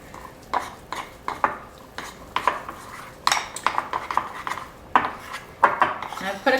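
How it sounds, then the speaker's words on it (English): A spoon stirs food coloring into cupcake frosting in a bowl, repeated close scraping clinks and soft smears in an uneven rhythm, steady throughout with no talking. "And so you just stir it in"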